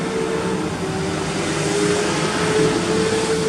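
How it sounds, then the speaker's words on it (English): Steady broadband rumble of tractors and other vehicles passing outside a window, with a faint engine tone running throughout; continuous traffic noise, moderately loud, no talking. "there's always tractors and all those vehicles going and passing by the window"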